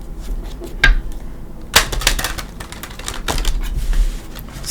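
Tarot cards being shuffled up close: quick, irregular papery clicks and riffling snaps that come in short bursts, with no talking.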